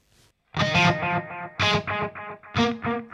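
A distorted electric guitar is played through a Jeff Loomis Devil's Triad pedal on a spring-reverb-like setting. Several loud, dark, chugging chord stabs ring out alone, each trailing a short, fast, wet decay.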